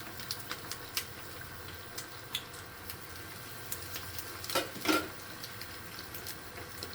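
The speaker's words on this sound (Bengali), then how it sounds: "একদম হাই হিটেই ফ্রাই করতে হবে।" Chicken wings frying in hot oil on high heat, a faint, steady bubbling sizzle with small crackles and pops throughout and a brief louder spatter near the end.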